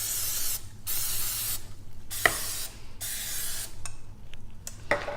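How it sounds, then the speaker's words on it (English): Cooking spray is misted onto a hot waffle iron in about four close, hissing bursts, each lasting under a second, with short pauses and a faint clack between them. "I'm going to go ahead and spray it."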